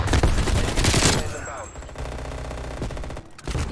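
A loud burst of rapid automatic AK-47 fire from Call of Duty: Black Ops Cold War opens the moment, then fades into quieter in-game sounds.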